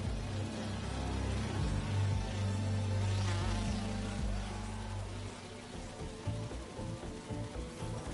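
Holographic bee wolves in the Spider-Man 2 video game buzz like insects as a continuous droning hum, steady and fairly loud, mixed with other game sounds and easing slightly toward the end.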